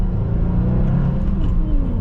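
A 2022 Subaru WRX accelerating hard, its engine a steady, strong low rumble heard from inside the car, holding loud and even throughout with no talk over it.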